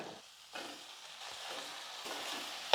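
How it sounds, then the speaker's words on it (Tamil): Brinjal sizzles softly in oil with onion and tomato over low heat, with faint stirring scrapes and no talk. "கத்திரிக்காய் வந்து ஒரு ரெண்டு நிமிஷத்துக்கு வந்து ஸ்டவ் கம்மியாக வச்சுட்டு எண்ணெயில் நல்லா வதங்கட்டும்"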